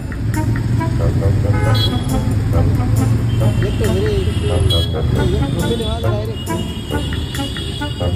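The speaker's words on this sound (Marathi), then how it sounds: "आपण चांगल्या प्रकारे असं ट्रॅफिक मध्ये फसलेलो आहे" Busy road traffic on the way from Mumbai to Alibag, engines droning and several car horns honking intermittently, while people talk close by.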